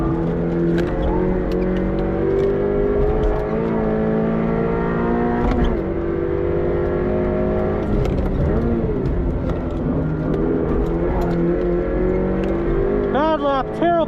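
Subaru BRZ on a track lap, engine droning loud and steady with rising and falling revs through shifts and corners, captured from inside the car.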